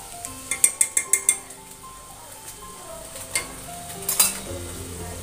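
Chicken with biryani masala stirred and sautéed in a pot: a quick run of sharp spoon clinks against metal, then scattered scrapes and knocks over a soft sizzle.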